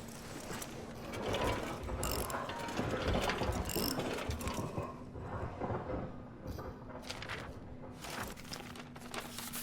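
A wrench working a stiff mechanism open in Amnesia: The Bunker, a dense run of ratcheting metal clicks and grinding gear noise over a low steady hum, fairly loud and continuous for most of the stretch.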